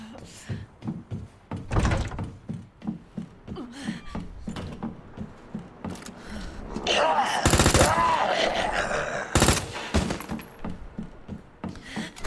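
SMG bursts in Resident Evil 2, Claire's story, with rapid rattling volleys and heavy thuds scattered over several seconds, sometimes under someone talking.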